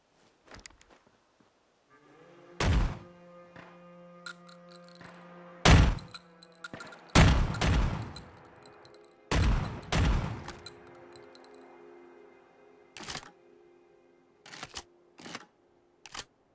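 Street Sweeper shotgun from a Fallout 4 weapon mod firing in bursts of single sharp blasts, about nine spaced shots over steady mechanical humming tones, some followed by short clunks of handling.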